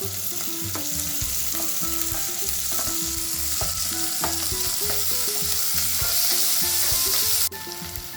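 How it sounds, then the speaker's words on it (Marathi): Mixed vegetables being sautéed for soya pulao sizzle loudly in a pan, with frequent stirring clatter and scraping over a continuous frying hiss. "त्याच्यामध्ये या भाज्या पण आपण परतून घेऊया."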